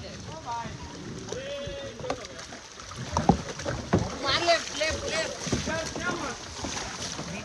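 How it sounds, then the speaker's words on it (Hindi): A small boat is paddled on open water in Goa, with splashing and sloshing strokes under wind buffeting the microphone while several people talk and call out nearby. "बोट चालवण्याची पूर्ण कोशिश करताय"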